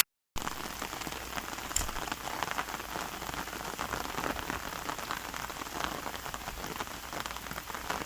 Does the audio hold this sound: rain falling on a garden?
yes